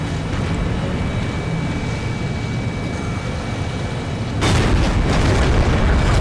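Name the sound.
tank gun shot in tank video game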